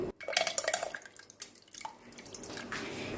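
Soaked tukhm malanga seeds are tipped into a glass of sharbat, giving wet plops and drips up close, then a brief quieter stretch and a softer trickling splash.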